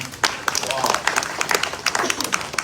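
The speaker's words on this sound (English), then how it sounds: "Let's give her a round of applause for that." An audience at a glassblowing demonstration at a Corning museum in upstate New York claps in a loose, scattered burst of sharp hand claps, with people talking through it.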